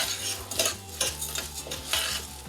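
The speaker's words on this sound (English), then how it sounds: "So then you add the couscous and really just stir it to coat. Just let it toast in there for a few minutes." Maftoul couscous toasts in butter in a pot, stirred with quiet scraping strokes over a faint sizzle, fairly soft and close, with no talking.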